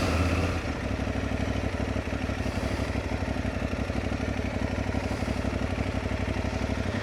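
A motorcycle rolling at low speed with its engine held near idle, giving a steady, continuous mid-pitched rumble with a fine throbbing pulse and no voices.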